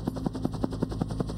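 A Huey command and control helicopter flies over a Vietnam battlefield, its rotor blades thumping in a steady, fast rhythm of about six beats, moderately loud and alone.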